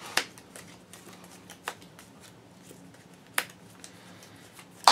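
Cards are drawn and discarded during a Digimon card game, with a few sharp snaps and flicks spread out over a quiet background.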